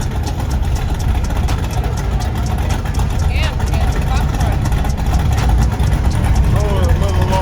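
A hot rod engine idles at a classic car show and cruise with a steady, loud low rumble amid crowd noise, while people talk nearby.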